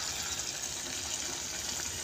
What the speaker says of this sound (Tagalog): Lalagay na natin itong gata.